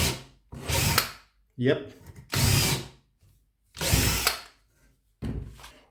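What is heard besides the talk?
Parkside power drill drilling with drilling jig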